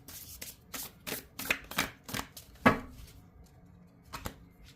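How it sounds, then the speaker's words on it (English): A deck of oracle cards being shuffled by hand, with a series of crisp riffling bursts and slaps at an uneven rhythm, close and fairly quiet, with no talking. "Why are oracle cards so hard to shuffle for me?"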